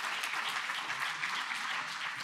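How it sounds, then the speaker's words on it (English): Steady, dense applause from a conference audience at a defense forum in Alaska, continuous clapping with no voices on top. "A round of applause for Bruno."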